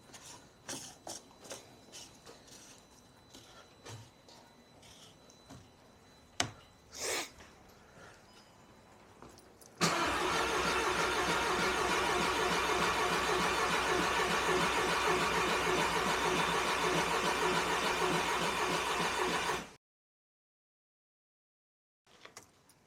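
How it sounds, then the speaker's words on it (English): A Mk5 Volkswagen GTI engine with all-wheel drive and forged internals cranks steadily for about ten seconds to prime oil, with a loud, continuous whirring drone, then cuts off abruptly into silence; scattered clanks and knocks come before it. "that is initially just to prime everything, make sure we've got oil running around the engine"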